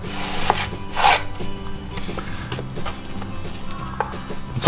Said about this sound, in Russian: Режем лучок.